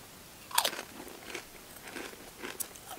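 Thai sweet chili hand-cooked potato crisps crunch between the teeth outdoors at a camp, a sharp first bite followed by several softer chewing crunches, close and quiet.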